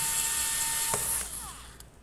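Small Phillips screws being backed out of the SSD bay of a Dell Latitude E5450 laptop, giving a few faint clicking, ratcheting turns close up with no talk.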